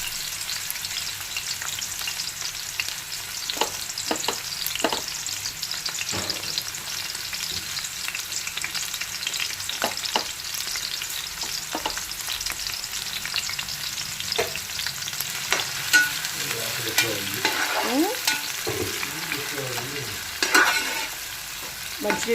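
Onions and green chillies fry in hot oil with a steady close sizzle, broken by repeated clicks and scrapes from a stirring utensil against the pan; no one talks.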